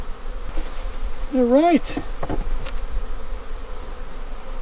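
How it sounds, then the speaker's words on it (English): Agitated honeybees buzz densely around beehives being condensed and moved for winter, a loud, close, constant drone with a brief spoken remark over it. "These bees are not happy with me. I've got bees all over me."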